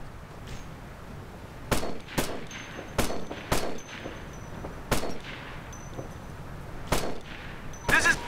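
Gunfire in the Operation Flashpoint: Red River video game: around eight sharp, loud single shots at irregular intervals over a faint background hum, with a few distant metallic pings.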